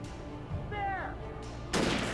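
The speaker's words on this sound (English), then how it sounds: "Oh my god, they are shooting." Police gunfire in Alan Wake Remastered: a brief voice, then one sudden loud sharp shot near the end.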